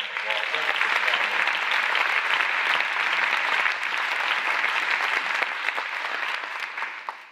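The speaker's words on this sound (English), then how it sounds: "Can we please give them a round of applause?" An audience at a gala claps in sustained, dense applause that holds steady for several seconds before tapering off at the end.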